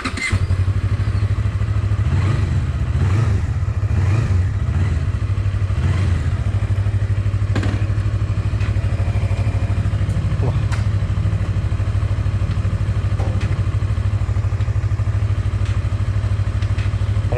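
A Colove 321RR motorcycle runs during a test ride, its engine droning loud and steady throughout with rhythmic pulses and revs, while a rider's voice is heard talking over it.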